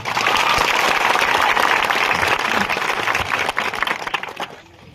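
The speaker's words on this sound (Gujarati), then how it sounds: "આપણે એકવાર જોરદાર તાળીઓ પાડી લઈએ" A seated crowd of elders, youths, women and children at a public meeting bursts into vigorous applause that stays dense, then thins and fades out over the last second.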